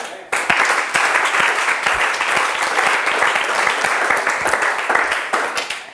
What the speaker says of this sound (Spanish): Dar un aplauso a Cristo